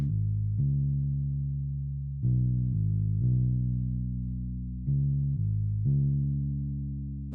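A synth bassline built in the Flex plugin for a remix, playing a sustained, droning low tone that shifts pitch in a repeating pattern of held notes, loud and alone with no drums or voices.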